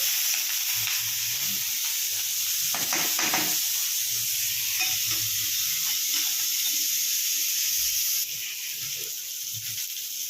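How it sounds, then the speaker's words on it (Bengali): Chopped onion and green chilli fry in hot oil tempered with nigella seeds after fish has been fried in it, giving a steady close hiss and sizzle with a few scraping stirs and brief clatters. "তেলে কালো জিরে ফোড়ন দেবো তারপরে এই যে পেঁয়াজ কুচি লঙ্কা কুচি রেখেছিলাম এটা দিয়ে দেবো"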